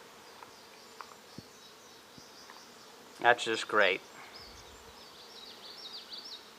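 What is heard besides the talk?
honey bees buzzing at a beehive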